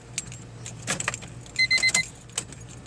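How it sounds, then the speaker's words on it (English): A car key jingles on its ring and clicks into the ignition of a Honda, a few close, light metallic jangles and taps with no talking. "put the key in the ignition"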